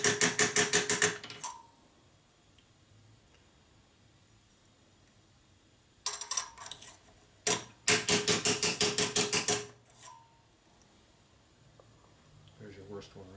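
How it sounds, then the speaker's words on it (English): A smooth-face hammer taps a metal part during a tune-up on a 1949 Harley-Davidson Panhead FL, in two sharp rhythmic bursts of quick close strikes separated by a quiet pause. "Smooth face hammer here."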